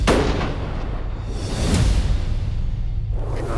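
A single loud rifle shot fired at a bull elk while hunting in the Colorado high country, booming close and then rolling away into a long outdoor echo.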